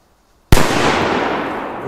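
A Tuono Blue TB5 firecracker goes off with a single sharp, loud blast after half a second of silence, followed by a long crackling, hissing decay.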